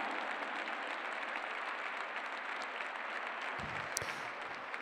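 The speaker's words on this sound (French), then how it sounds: "Mérite un petit peu plus d'applaudissements pour le maestro Markus Henning." Steady applause from the crowd at a show jumping event, honoring rider Markus Henning, heard at moderate distance as a continuous wash of clapping with a brief thump near the end.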